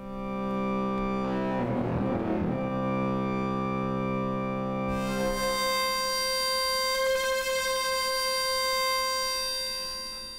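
SOMA SimplexFM synthesizer with its voices cross-modulating, a buzzing harmonic drone broken by a harsh, gritty distorted burst, then a denser, brighter, metallic distorted chord sustained to the end.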